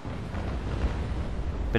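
Enemy ships fire their cannons in a naval video game battle, heard as a steady low rumbling roar of distant booms that builds slightly toward the end.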